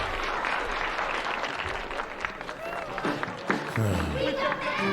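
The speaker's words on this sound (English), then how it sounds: "that gets a round of applause" Applause rises from an audience, a dense patter of clapping heard alongside a talking voice that continues over it.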